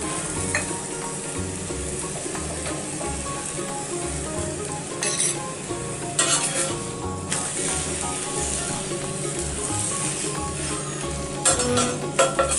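A tomato paratha frying in oil on a pan, with a steady, close sizzle that runs throughout and brief bursts of louder crackle as oil is spread over the surface.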